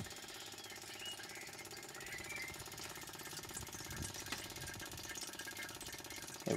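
A pump runs on a small stainless steel wrong-fuel separator, giving a faint, steady mechanical hum with a fast rhythmic chatter that continues evenly throughout.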